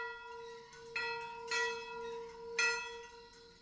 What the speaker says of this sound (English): She'd ring the bell